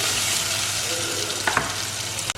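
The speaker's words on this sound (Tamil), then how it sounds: "இது ஒரு 2 மினிட்ஸ் வதங்கட்டும்" Onions sautéing in a pan for a coconut milk mutton curry, a steady broadband sizzle and crackle with a few brief stirring scrapes near the end, close and continuous.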